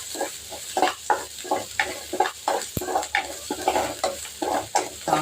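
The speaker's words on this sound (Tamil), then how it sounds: "கொஞ்சம் கருவேப்பிலை ஆட் பண்ணி வச்சுக்கிறேன். தாளித்து வச்சுக்கலாம்." Curry leaves sizzle in hot oil while being tempered for a lentil curry, with steady frying crackle beneath a regular series of close scraping stirs in the pan and one sharp knock partway through.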